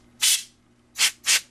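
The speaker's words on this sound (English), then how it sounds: "you want to shoot directly into the fan, short bursts" A can of compressed air sprays into a laptop fan in three short hissing bursts, one and then two close together, loud and near.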